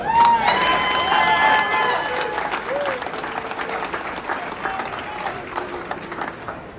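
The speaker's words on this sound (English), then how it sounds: "Huge round of applause for Simmer" A crowd at the 2023 US Air Force Thunderbirds team introduction applauds and cheers loudly, with whoops and shouts riding over dense, sustained clapping that slowly tapers off.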